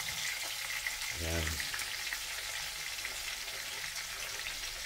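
Onion fries alongside salmon in a pan, a steady bright sizzle carrying through, with a brief low hum early on and a voice speaking a single word.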